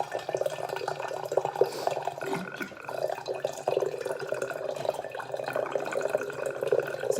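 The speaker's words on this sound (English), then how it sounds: "I'll just put the water straight into here" Water is poured steadily into a large jar of over a litre for kefir-making, a continuous close gurgling splash that runs without pause and gets slightly fuller toward the end.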